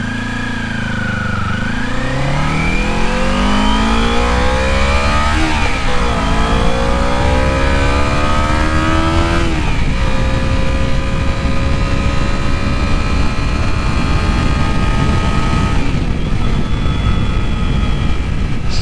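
A Kawasaki Z250 motorcycle engine revs hard and high, its pitch climbing in steps through the gears before holding a loud, steady whine with rushing wind.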